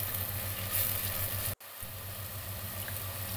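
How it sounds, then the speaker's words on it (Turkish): Onions sautéing in a pan with salt, a soft steady sizzle with a low hum running throughout and a brief dropout midway, no talking. "Birkaç dakika kadar soğanlarımı güzelce kavuruyorum."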